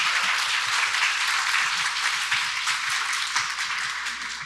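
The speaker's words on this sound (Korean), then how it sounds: "오늘 좋은 이야기를 들려주신 이 두 분의 작가께 박수 부탁드리겠습니다." An audience at a Seoul international writers' festival applauds two authors, a dense, steady wash of many hands clapping that holds throughout and tapers slightly toward the end.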